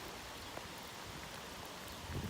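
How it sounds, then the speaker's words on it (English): Steady rain falls outdoors in a constant, fairly faint hiss of drops, with no voices and a slight rise near the end. "And yes, it's raining."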